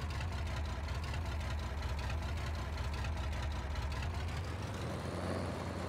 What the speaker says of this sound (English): I hope this tractor can handle it